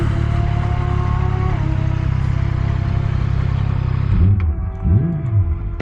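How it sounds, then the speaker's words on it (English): Motorcycles rev in the background of a crowded parking area at a race track. A steady engine drone holds throughout, and a couple of quick rising-and-falling revs sound near the end. "So if you guys can hear the bikes in the background,"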